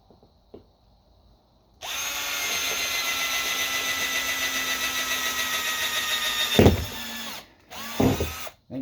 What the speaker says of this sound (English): I think my battery's going dead on this drill